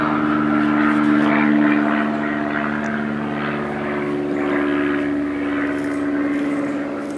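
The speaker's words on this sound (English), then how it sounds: "I'm gonna wait for this airplane to go by." A propeller airplane passes overhead, a steady droning engine hum with a low, even tone that swells slightly and then fades as it moves away.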